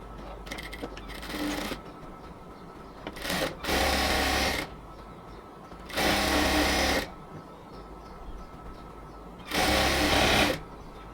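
A sewing machine stitches a cotton palazzo seam from the bottom up, running in three or four loud, steady bursts of a few seconds each, separated by quiet pauses.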